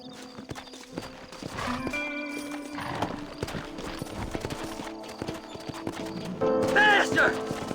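Horses gallop with steady clip-clop hoofbeats in the western video game Red Dead Redemption, and loud whinnying neighs rise near the middle and again near the end. A voice talks over the hooves.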